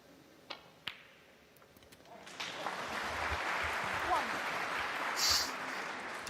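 At a snooker final, a crowd breaks into applause after a 147 maximum break. A couple of sharp clicks come first, then a broad wash of clapping builds and holds steady at a moderate distance.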